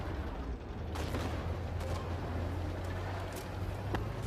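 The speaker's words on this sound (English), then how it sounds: "I'm getting hit by artillery too as a 2-for-1 bonus while I take on a T-90 MS lieutenant" Artillery fire hitting a T-90 MS tank in Armored Warfare, a faint wash of distant rumbling blasts with a few sharper cracks over a low steady engine hum.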